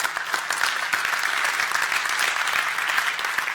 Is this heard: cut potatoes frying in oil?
no